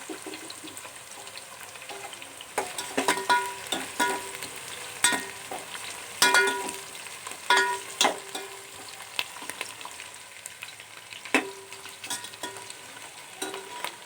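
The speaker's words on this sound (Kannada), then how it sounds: "ಒಂದು ಸ್ವಲ್ಪ ಫ್ರೈ ಆಗಬೇಕು ಈರುಳ್ಳಿ" Onions and green chillies sizzle steadily in a hot pan for chicken biryani, with repeated clinks and scrapes of a stirring spoon over the continuous frying hiss. No one talks.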